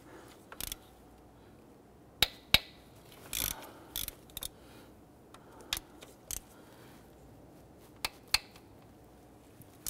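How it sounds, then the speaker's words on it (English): A hand ratchet works the 10 mm intake manifold bolts on a 2005-2021 Nissan Frontier 4.0L V6, giving sharp, close clicking bursts spaced irregularly over a quiet background. "I'm using hand tools here, no power. Just want to make sure we can break everything free first."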